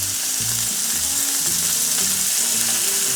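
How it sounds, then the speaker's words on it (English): Burgers sizzle steadily in the background, a continuous bright hiss of frying with no talk over it. "That's my burgers cooking that you hear in the background."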